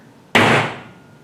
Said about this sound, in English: I can take my hammer and just give it a nice hit